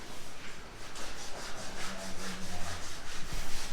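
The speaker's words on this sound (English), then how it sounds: "Now he's doing sanding." Rhythmic rubbing strokes of sanding across a filled door in a house under construction, a steady back-and-forth scratching at moderate distance, fairly quiet, with faint low background noise.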